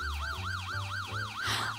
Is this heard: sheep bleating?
no